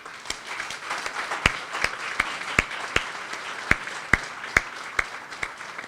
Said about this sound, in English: I think you guys deserve a big round of applause.